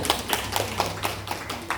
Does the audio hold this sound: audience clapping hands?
yes